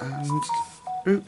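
A phone chimes with a short electronic notification tone, a few bright pitched beeps heard close and clear while someone speaks over it during a colouring session.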